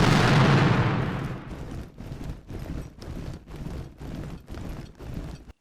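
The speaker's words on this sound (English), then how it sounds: "Prussian artillery fires on Lobau's artillery." Artillery fire sound effect from a Waterloo wargame, Prussian guns firing: a loud opening blast fading out, then a steady rapid series of about eight muffled booms, evenly spaced and alone with no talk.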